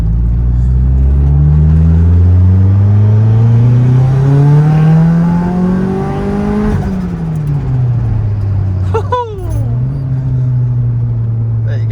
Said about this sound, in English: here's second gear pull